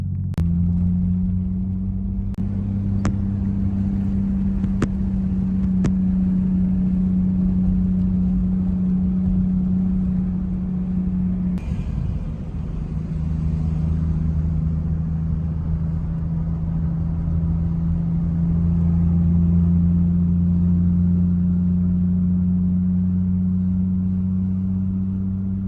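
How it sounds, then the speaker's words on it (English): A Nissan Skyline cruises on the road toward a garage, its engine holding a steady low rumble throughout with a brief dip partway, loud and close with no talking. "Let's go take a drive in the Skyline to the garage and enjoy the views."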